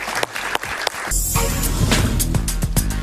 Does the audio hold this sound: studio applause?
yes